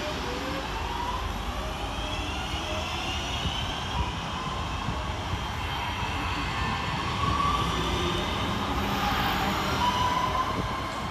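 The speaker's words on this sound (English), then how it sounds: "we'll get started here at Eccles with 323-234, departing with the 1547 Northern service from Liverpool Lime Street to Manchester" A Class 323 electric train pulls out of Eccles station on a Northern service, a steady broadband rumble and rising motor whine rolling past at moderate distance, with no voices.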